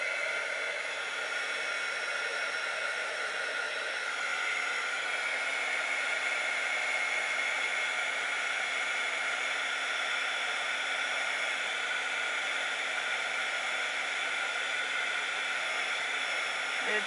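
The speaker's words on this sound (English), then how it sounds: "I'm going to dry this half of it." A hair dryer blows steadily on wet modeling paste, a continuous close, loud airy rush that holds evenly from start to finish with no pauses.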